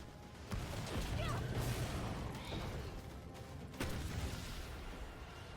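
A loud explosion in the Resident Evil 3 Remake video game, a sharp blast followed by a sustained roaring rumble, with a second heavy impact a few seconds later.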